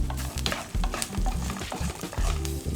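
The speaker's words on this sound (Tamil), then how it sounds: "பாருங்கள், இந்த தாளிப்பு நல்லா வதங்கி வருது." Urad dal and cashews fry in a tempering in a pan, with quick repeated stirring scrapes over a crackling sizzle, close up and lively.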